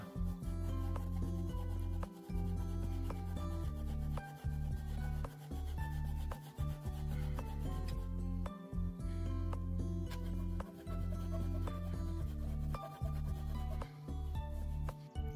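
A handsaw cuts through wet wood, its strokes giving a steady, continuous rasping and rubbing with brief breaks between passes, close and alone.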